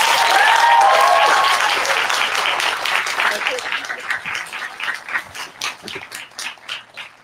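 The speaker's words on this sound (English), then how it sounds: "I would like to give Ms. Yvonne Follin a big round of applause." A graduation ceremony audience applauds, starting loud and dense, then thinning into scattered individual claps as it fades out.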